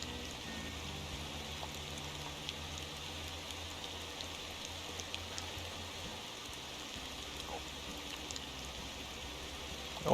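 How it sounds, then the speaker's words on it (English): Steady rain inside the Motor Town Behind The Wheel driving game, a dense even hiss with a low rumble beneath, continuous throughout with no talking. "Luckily the rain will stop any second now."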